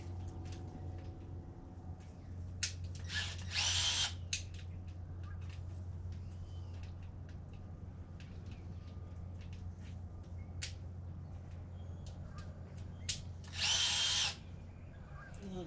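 A power ratchet zips off strut bolts on a 2013 Ram 1500 during a Rough Country strut install: two short, loud whirring bursts about ten seconds apart over a low steady hum.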